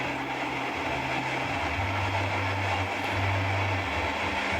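A steam train on a journey out of Connolly rumbles steadily with a low droning engine tone and continuous rolling noise, heard from aboard at a moderate, even level.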